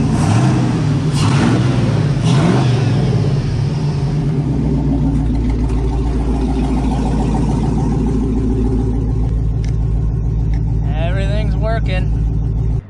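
Engine of a badly wrecked pickup truck running loud and rough through a straight pipe exhaust, a steady close rumble with revs rising early on, while a person talks over it.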